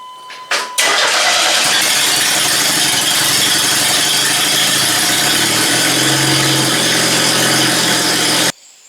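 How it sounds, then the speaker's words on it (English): A truck engine with no exhaust cranks and roars to life, then runs very loud and raw for several seconds, a harsh unmuffled rumble that cuts off abruptly. "I'm gonna fire this up, and it has no exhaust, so prepare yourself."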